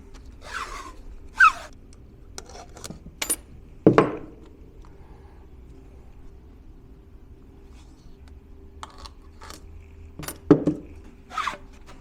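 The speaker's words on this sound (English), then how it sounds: "we're going to fix that to the cell with the recommended 2-inch" Kapton tape applied to a LiFePO4 battery cell gives a few sparse, close crinkles and tapping clicks, spread out over long quiet stretches with no talking.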